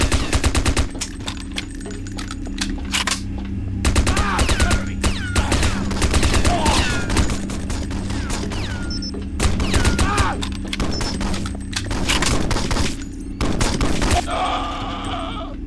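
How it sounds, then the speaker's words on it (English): Uzi submachine gun fire in the shooter game 007 Nightfire on PC: loud, close bursts of rapid automatic shots in irregular, sporadic clusters separated by short gaps. "I find a new Uzi, which is fine, but the automatic fire is a bit sporadic"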